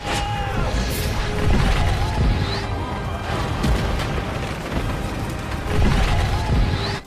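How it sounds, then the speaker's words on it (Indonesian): A loud, sustained booming blast with crashing debris and rumbling, dense and continuous throughout, from a magic arrow of blue fire exploding in the film Eragon. "tembakan panah dari Eragon mengeluarkan api biru yang langsung meledak seketika."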